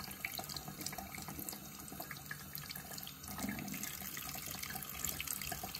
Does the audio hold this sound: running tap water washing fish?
yes